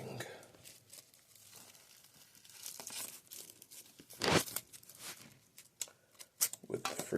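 Tape is torn from a roll and pressed down while wrapping a copper-latticed hoverboard core, giving close ripping and crinkling bursts with a sharp tear near the middle, under quiet talk.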